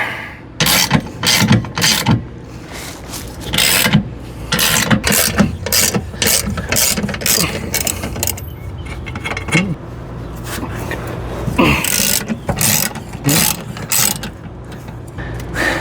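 A ratchet wrench clicks in rapid bursts while unbolting an RV stabilizer jack, with short pauses between runs of close, sharp metallic ratcheting.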